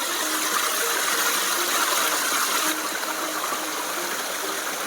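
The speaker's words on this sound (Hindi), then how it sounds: "कितना विशालकाय झरना है ये" A huge waterfall in a quiet forest near Kandaghat, Himachal Pradesh, roars as a loud, constant broadband rush with no pauses, heard close up and alone.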